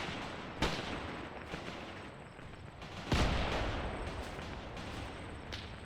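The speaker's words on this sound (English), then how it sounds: "And here come the mortars, don't they?" Mortar and machine gun fire in the World War II game Mius Front: heavy booms hit at the start and again midway, followed by rolling rumble and scattered bursts of gunfire beneath a constant battle din, with no voices.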